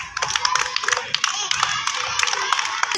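A group of schoolchildren claps together for a classmate who won a class activity, a dense patter of sharp hand claps running throughout, close and fairly loud, with some voices mixed in.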